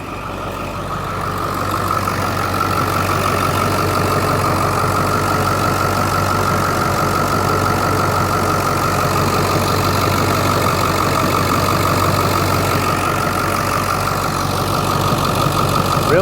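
A 2002 Ford Excursion Limited with the 7.3L Powerstroke diesel idles steadily, a loud, even, continuous rumble with a clattering diesel edge, heard up close and alone.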